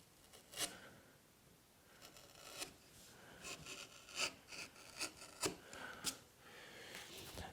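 A V gouge carving into wood during dado work, giving soft, irregular rasping scrapes in short bursts with brief pauses between strokes, close and fairly quiet, with no talking.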